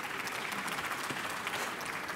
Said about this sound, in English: There's one woman clapping over there